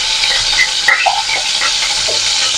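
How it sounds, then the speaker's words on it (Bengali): Potatoes frying in hot mustard oil give a loud, dense, continuous sizzle up close, with faint stirring scrapes and no voices. "প্রথমে আমি সর্ষের তেল গরম করে আলুগুলো ছেড়ে দিয়েছি"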